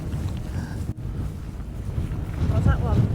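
Strong, continuous wind gusts buffet the microphone on an exposed summit of Burnbank Fell in the Lake District, a low roaring rumble with a brief dip, while voices murmur faintly underneath near the end.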